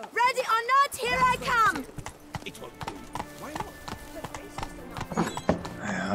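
Horse hooves clip-clop in quick repeated steps on stairs in The Witcher 3, opening with a couple of whinnies, then steady hoofbeats continue with talking underneath.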